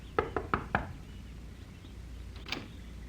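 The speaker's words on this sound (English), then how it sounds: "she was knocking at the door of a small shack on the outskirts of the" Four quick knocks on the door of a small shack, crisp and close, followed after a pause by a single softer knock against a quiet background.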